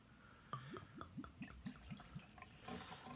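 Beer, an 8% Belgian-style tripel, pours into a glass in a short run of bubbly, gurgling splashes, close and fairly quiet, with no one speaking.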